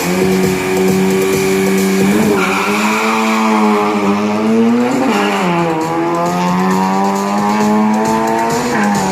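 A 1500 cc race car with a manual gearbox roars loud and close down a 402-metre drag strip, the engine note climbing and dropping sharply at each gear change.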